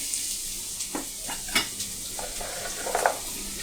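Chopped onion and 4-5 green chillies stirred and fried in a pan with garlic, a constant sizzle broken by scraping spatula strokes and light clinks against the pan, close and clear, with no voices.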